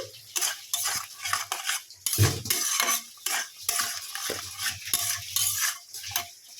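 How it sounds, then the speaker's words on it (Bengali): Thick spice paste sautéed and stirred with Kashmiri chilli powder in a pan for mutton kosha, with a near, continuous scraping of a utensil against the pan in quick repeated strokes and faint sizzling underneath. "এই মশলাটা এই যে ভালো করে কষিয়ে নিচ্ছি"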